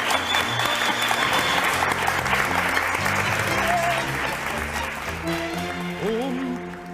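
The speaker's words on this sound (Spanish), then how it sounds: "para el que pido un fuerte aplauso" A large audience applauds warmly for tango dancer Mariano Chicho Frumboli, steady dense clapping filling the hall for several seconds, with music and a tonal voice entering faintly toward the end.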